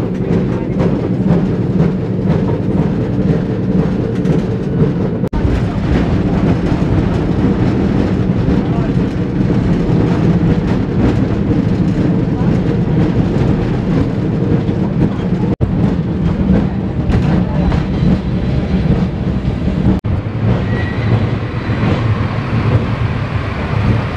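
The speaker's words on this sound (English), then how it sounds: "So we're on the tram." Steady rumble and rattling of a tram in motion, heard from inside the car, loud and continuous throughout with a broad low drone and faint clatter; no speech over it.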